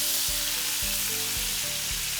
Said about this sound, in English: When you hear that sizzle, you just know that something great, delicious is cooking in the kitchen.